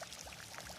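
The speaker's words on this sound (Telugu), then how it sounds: "మొక్కలకు నీళ్లు పోస్తున్నావా గుండమ్మ?" Water is poured onto garden plants, a brief, soft, quiet trickling splash heard alone.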